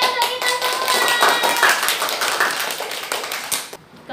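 Classroom group clapping from students at the close of an Islamic religious education lesson, a dense burst of many hands at close range that holds steady for about three and a half seconds before cutting off, with faint voices mixed in.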